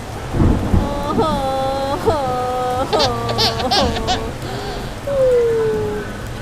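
Heavy rain pours with rumbling thunder on a street in Bangkok's Ari district, a steady loud wash with several honking, tonal calls rising over it.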